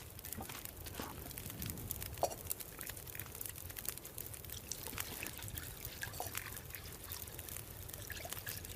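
Water being collected in The Long Dark survival game, a soft trickling, splashing pour that runs quietly and steadily with small crinkling sounds mixed in.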